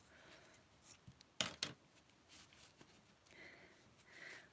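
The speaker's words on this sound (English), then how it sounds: "it's so much easier just to cut it all off." Scissors cut through old wool wound on a spinning tool, with two quick crisp snips close to the mic over a quiet room background.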